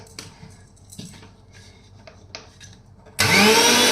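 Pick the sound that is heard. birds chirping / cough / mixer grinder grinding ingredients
mixer grinder grinding ingredients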